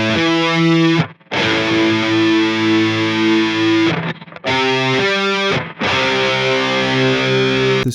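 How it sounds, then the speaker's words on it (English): A distorted electric guitar rings out a two-note power chord built on a perfect fifth, struck three times with short gaps between the sustained, loud, saturated strums, alone with no voice. "This two-note chord is a perfect fifth interval played harmonically / at the same time."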